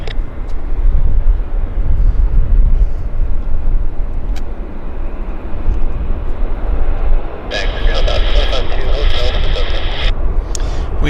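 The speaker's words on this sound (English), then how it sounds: "We got another aircraft on approach." An aircraft on approach at Vancouver International Airport (YVR) gives a steady, distant low rumble that persists throughout, with people talking over it.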